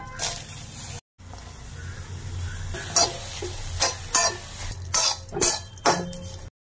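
Dry prawns frying in an old scorched wok, a steady sizzle with intermittent scraping stirs and clinks of a utensil against the pan, close and fairly loud, with a brief gap of silence near the start.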